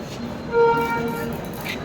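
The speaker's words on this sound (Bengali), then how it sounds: "ট্রেন এসে গেছে প্ল্যাটফর্ম নম্বর থ্রি" A train arriving at a railway station platform sounds a brief, moderately loud two-tone horn in the middle, over steady station rumble, while a person talks throughout.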